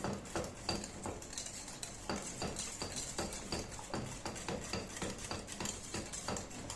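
Milk stirred into pasta sauce in a kitchen pot, a steady run of scraping and light clinking of a spoon against the pan with faint sizzling underneath, close and continuous.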